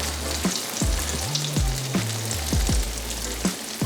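Oyster mushrooms, battered as vegan fried chicken, fry in hot oil with a steady crackling sizzle and sharp spitting pops, loud and close, with no one speaking.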